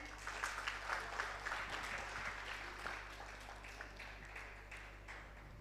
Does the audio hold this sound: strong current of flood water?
no